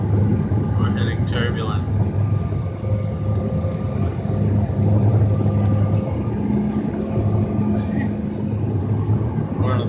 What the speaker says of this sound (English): We're in a small, Bombardier Learjet.